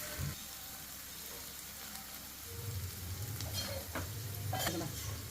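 Washed goat brain frying in onion masala with ginger-garlic paste, turmeric, salt and chili, giving a steady low sizzle that grows louder midway, with occasional scraping stirs.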